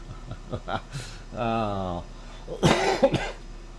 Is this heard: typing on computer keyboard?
no